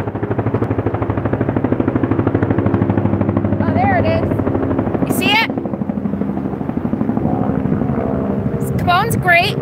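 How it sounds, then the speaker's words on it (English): A helicopter passes overhead during summer in Alaska, its low rhythmic rotor thump steady and loud throughout, with brief bursts of whistling or bird-like chirps near the middle and end. "We've got a helicopter coming. Can you hear it?"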